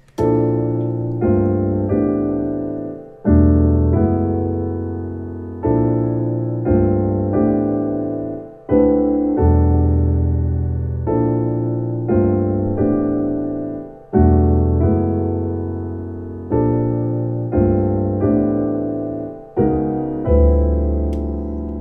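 A synthesized chord progression plays alone, each chord struck in turn and decaying, in a steady repeating sequence.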